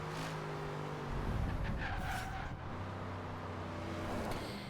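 In the video game Forza Horizon 3, a 1968 Dodge Dart with a swapped Hellcat engine roars under hard acceleration. Tires squeal and the engine revs rise and dip through a gear change.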